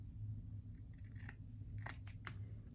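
Scissors cut ribbon ends into a dovetail, giving several crisp close snips over a low steady background hum.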